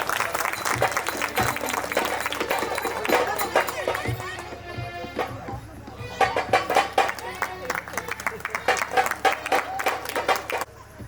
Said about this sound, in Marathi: टाळ्या वाजून जाणार.